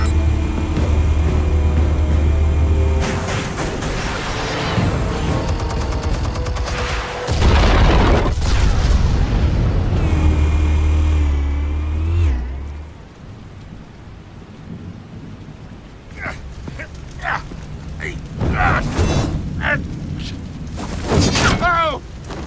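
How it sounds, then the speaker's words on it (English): Explosives detonate in the video game Batman: The Telltale Series, heavy rumbling booms and crackling debris dominating the first half, then fading into quieter clatter with intermittent sharp impacts and some voices. "Explosives armed. Fire when ready."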